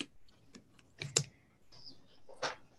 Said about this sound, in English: You're really shuffling there